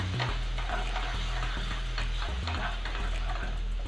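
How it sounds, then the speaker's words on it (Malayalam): Masala sizzles and fries steadily in a pan for a Kadhai paneer dish, with regular stirring scrapes and ticks of a utensil over a continuous loud hiss. "ഇനി നല്ലവണ്ണം ഈ മസാല ഒന്ന് മൂത്ത് വരുന്നിടം വരെ നമുക്ക് ഇതുകൂടെ ഒന്ന് ഫ്രൈ ചെയ്തെടുക്കാം"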